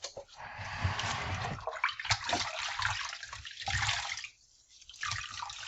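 Water runs and splashes steadily over a plastic wall-mounted kitchen paper towel holder as it is rinsed, a loud continuous wash with a brief lull near the end before the flow resumes.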